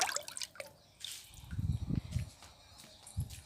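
Liquid kitchen-waste fertilizer poured onto chrysanthemum plants in a garden, a few soft splashes and drips landing on soil and leaves, quiet and close, in short irregular bursts.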